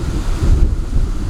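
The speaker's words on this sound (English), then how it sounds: "it's really windy out here today" Strong wind buffets outdoors with low rumbling gusts, loud and continuous, with no voices.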